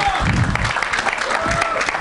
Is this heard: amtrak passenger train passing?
no